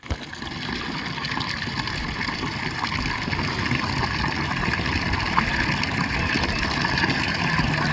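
Steady, continuous splash of water from a solar-powered pump feeding a small waterfall into a duck pond, an even broadband wash at moderate level with no talking.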